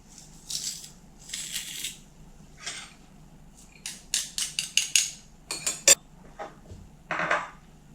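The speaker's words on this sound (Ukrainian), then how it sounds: "4 зубчика часника видушимо через прес." Quiet crunching and squeezing as four garlic cloves are pressed through a garlic press, a few soft presses followed by a burst of sharp metallic clicks and rattles.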